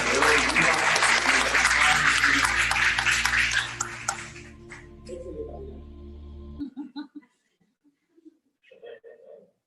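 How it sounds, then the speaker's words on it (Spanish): A church congregation at a Catholic Lenten Monday evening Mass bursts into loud sustained applause that fades over several seconds, leaving scattered claps and faint sounds in a quieter room. "Damos un aplauso a la Iglesia Católica."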